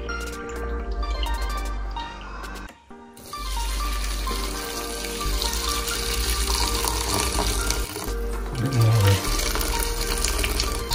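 Water from a kettle splashes and trickles steadily into a metal pot, with a brief pause early on before the pouring resumes, close and fairly loud.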